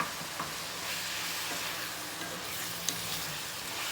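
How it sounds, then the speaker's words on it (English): Ground beef sizzles steadily in a hot pan while a utensil stirs it, a dense continuous frying hiss with occasional light scrapes, close and unbroken by talk. "Just keep stirring that ground beef"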